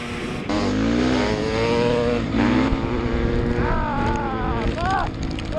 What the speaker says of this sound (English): This will be a second gear to third gear full for both bikes.